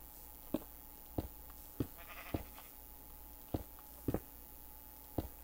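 Faint sheep bleats in a Minecraft sheep farm, with sparse sharp clicks and taps from the game spaced irregularly over a quiet background.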